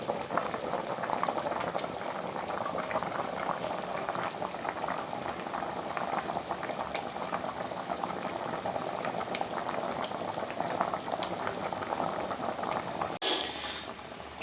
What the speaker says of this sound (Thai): น้ำเดือดมาก ร้อนๆนะครับผม